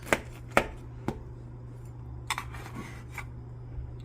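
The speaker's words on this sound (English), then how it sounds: "So now we're going to cut it." Several sharp, crisp crunches as a knife cuts through the hot, crusty top of a freshly baked banana loaf, with a few louder cuts at the start and softer ones later, under a steady low hum.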